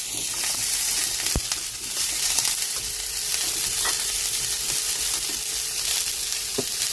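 Mixed vegetables, including peppers, tomatoes, coloured peppers and broccoli, fry in a hot pan. The sizzle is steady and bright throughout, with a few sharp pops and spatters and no talking.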